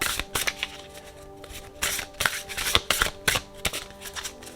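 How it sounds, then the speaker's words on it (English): An Elemental Oracle card deck is shuffled by hand in quick, close, crisp bursts of riffling and flicking, repeated several times in an irregular rhythm. "So let's shuffle, shuffle,"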